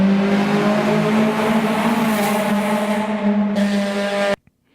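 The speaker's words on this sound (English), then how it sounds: "I want to love everything about a flat plane engine Corvette, but it just sounds like a K-Series Honda." A flat-plane-crank Corvette V8 revs hard in a steady, high-pitched engine howl, loud and close, that holds before cutting off abruptly near the end.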